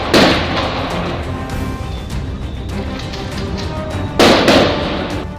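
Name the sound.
gunfire during a police shootout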